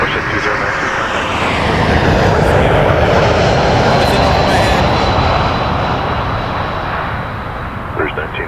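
Airbus A220 airliner at Toronto Pearson airport, its broad engine roar steady and fairly loud throughout, swelling slightly in the middle, with a continuous high whine on top.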